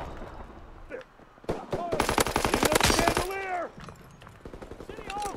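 Automatic gunfire in the World War II shooter Call of Duty WWII, long rattling full-auto bursts with sharp rapid reports, loud and close, with a mechanical whirring swell in between.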